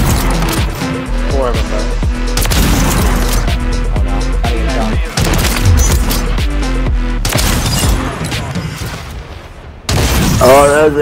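Sniper rifle shots crack in a Search & Destroy match of a shooter video game, sharp loud reports among busy game effects. People talk throughout.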